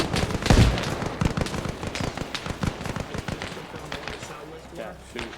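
Airsoft guns snap off sharp, scattered shots during a milsim operation, some close and some distant, mixed with rustling movement while players talk over radios.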